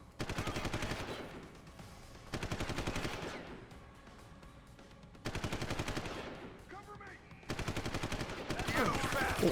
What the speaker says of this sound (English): I need suppression fire.